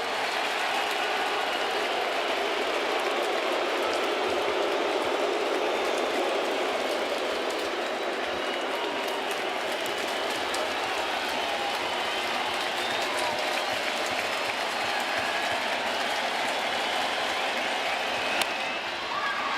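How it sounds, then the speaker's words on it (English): Steady, loud crowd roar fills Yankee Stadium during a Toronto Blue Jays game against the New York Yankees, with the bases loaded and a full count. The cheering holds at an even level for about twenty seconds. "Listen to this crowd."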